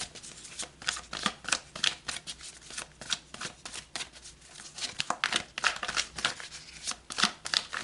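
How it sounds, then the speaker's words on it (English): Tarot cards shuffled and pulled by hand, a steady run of crisp riffling and snapping card sounds that repeat in quick bursts, close and fairly loud, with no talking. "Okay, let's pull more cards."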